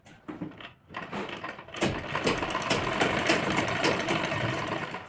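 A sewing machine stitches a lehenga blouse. After a few quiet handling clicks it starts up and runs steadily at close range as a continuous, rapid mechanical whir.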